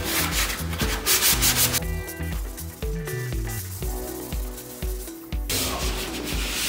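Hand sanding of a small skim-coated patch on an interior wall, a steady rasping scrub in repeated strokes, close and fairly loud, with light background music and no talking.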